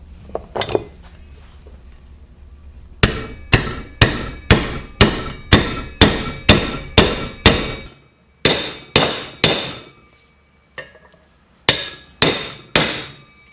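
A hammer drives a wheel bearing into a Yamaha FJR1300 front rim through a 32mm socket, a fast run of sharp metallic blows, then short groups of strikes with pauses, close and loud with no speech.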